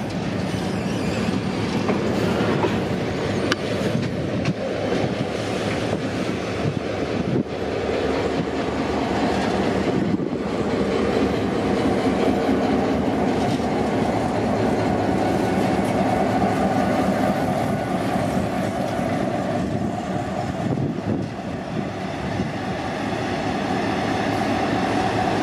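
Two shunting locomotives, S302 and S317, move a grain car at Kensington Station, with steady rumbling wheels, clickety-clack over rail joints and a continuous loud rail noise throughout.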